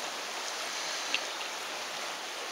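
The Sioule river flows through its gorge in a steady, broad rushing hiss, close and continuous with no voices.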